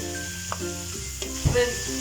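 Garlic, onion and tomato sizzle steadily in a hot pan, close and continuous, with a soft stirring scrape partway through.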